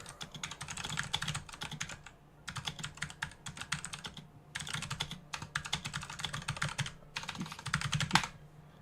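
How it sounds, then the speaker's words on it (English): Rapid typing on a computer keyboard, clattering in bursts separated by short pauses, close and fairly quiet, with no voices. "Typing away."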